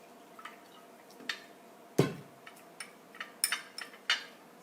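Water splashes and drips in short irregular bursts while something is rinsed clean by hand, with one louder splash partway through and quieter trickles around it, and no talking.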